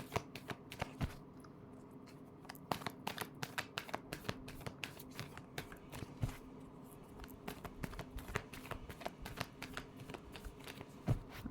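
Tarot cards being shuffled by hand, a long run of crisp riffling snaps and flicks repeating irregularly at close range with no talking.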